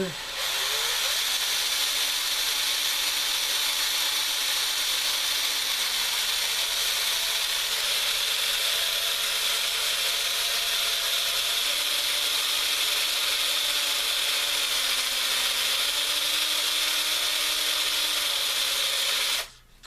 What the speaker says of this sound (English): we're going to hit it with a fresh piece of sandpaper